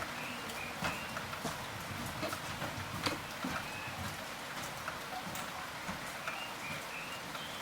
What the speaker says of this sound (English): our road-weary bones are soothed by the sounds of an afternoon rain washing down the roof